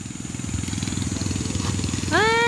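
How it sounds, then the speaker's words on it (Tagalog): A motorcycle engine running close by with a steady, rapid, low puttering idle. Near the end a short high rising tone cuts in over it. "May motor dun."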